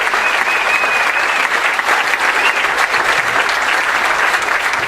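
Sustained audience applause fills a morning gathering of the Interfaith Committee for Workers Justice in San Diego, steady dense clapping from a large crowd throughout, loud and continuous with no talk over it.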